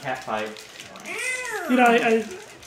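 A human voice imitates a cat fight, with short yowls followed by drawn-out, wavering caterwauls rising and falling in pitch, close and fairly loud.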